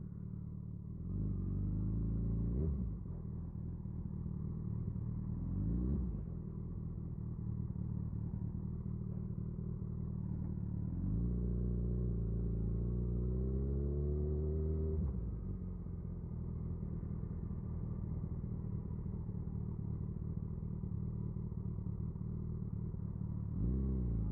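Motorcycle riding through a 40 km/h residential street, its engine a steady close low rumble throughout with a few rising and falling revs as the rider shifts and accelerates, no talking.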